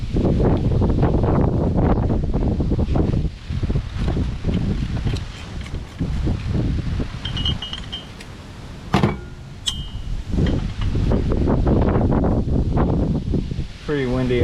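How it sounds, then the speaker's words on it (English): Gusty outdoor wind buffeting the microphone in heavy low rumbling bursts during work on a 2021 Kia Sedona, with short quieter lulls and someone speaking throughout. "pretty windy out today."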